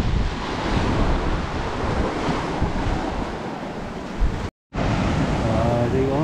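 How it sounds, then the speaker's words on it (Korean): Strong wind and crashing surf on a rainy seashore in Cebu, a steady loud roar of waves and gusts buffeting the microphone, broken by a brief dropout near the end. "빗물에다가 바람이 많이 부니까 도저히 사람이 못 지나가겠네요"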